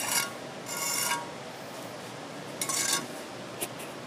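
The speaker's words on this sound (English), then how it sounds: "Get all your excess mortar off." A trowel scrapes excess mortar off freshly laid bricks on a double-lead brick wall. The gritty rasping strokes are close and come in separate bursts with pauses between them.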